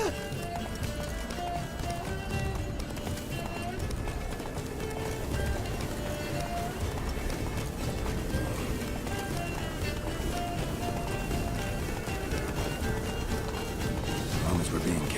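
Horse hooves gallop in The Witcher 3, a steady fast clip-clop running throughout at moderate loudness, mixed with game ambience and characters talking over it.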